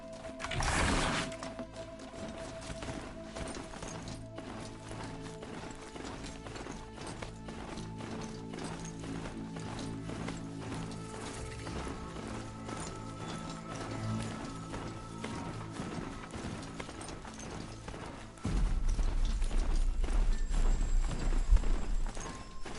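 Horse hooves clip-clopping in Horizon Zero Dawn, a steady run of hoofbeats with a brief whinny near the start, game music and ambience underneath, and a louder rumbling surge in the final seconds.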